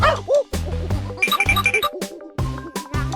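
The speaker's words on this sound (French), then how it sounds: "c'est le petit chien mignon et adorable" A small cartoon dog yips in quick bursts of high, bouncy barks, several in a row with brief gaps, loud and close, with a bright jingly musical tone mixed in.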